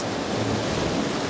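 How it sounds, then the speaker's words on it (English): Ocean waves surge up a narrow rock gully at the Devil's Cauldron near Sydney and crash against the rocks, a steady, loud, close roar of churning surf and spray with no pause, some wind noise on the microphone. "these waves come up the gully and crash on these rocks right in front of us"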